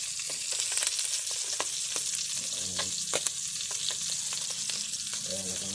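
Pieces of fish paksiw with garlic fry in hot oil in a pan, a steady loud sizzle broken by frequent small pops and crackles, with no voices.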